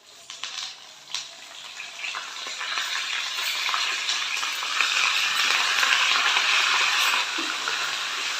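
Hot oil fries in a pan in a home kitchen, a broad hiss that swells and holds steady after a couple of opening clatters, close and continuous with no talking.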